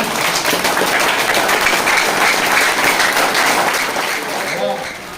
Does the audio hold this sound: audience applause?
yes